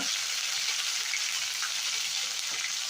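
Cumin, ginger-garlic paste and a pinch of asafoetida sizzle in three large spoons of hot oil for a field-bean curry, a steady, close, dense frying hiss that runs unbroken with no voices.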